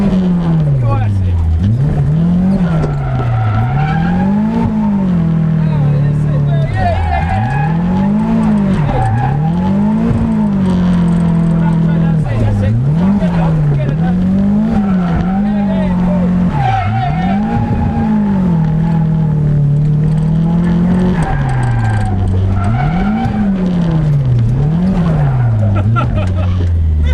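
A loud Nissan S13 with an SR20 engine revs up and down in repeated cycles, with tyres squealing as it drifts around a track; a voice talks over it.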